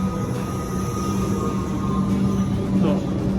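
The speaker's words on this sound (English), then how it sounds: "It's one of the old trains today." An old passenger train runs with a steady rumbling roar of wheels on rails, loud and close from inside, with a faint squeal near the end.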